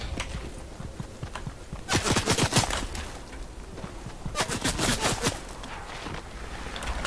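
Two bursts of rapid gunfire from the video game Fortnite, each a dense cluster of sharp shots lasting about a second, fairly loud over a steady background of game ambience.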